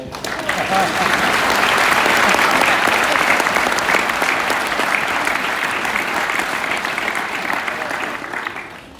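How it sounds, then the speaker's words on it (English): Brass band concert audience in Hunstanton breaking into loud, dense applause that swells early then holds steady for several seconds before easing off. "So give yourselves a round of applause."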